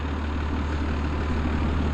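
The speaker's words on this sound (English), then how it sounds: "So I'm using this big tractor, and I backed the wagon in" A big tractor, used for backing a wagon into a shed, idles with a steady low diesel rumble, close and continuous, with no talk.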